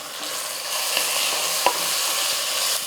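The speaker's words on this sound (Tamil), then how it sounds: "இந்த மசாலாலாம் நல்லா எண்ணெயில் வந்து கலந்து கொடுத்துருங்க." Spices, including homemade chilli powder with chopped coriander, are stirred into hot oil in a pan, giving a loud, close, continuous sizzle with scraping stirs and one sharp tap.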